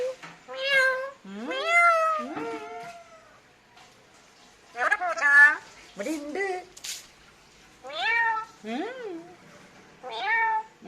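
A cat meows repeatedly in drawn-out, rising and falling cries, with a brief spoken line from a person between the meows.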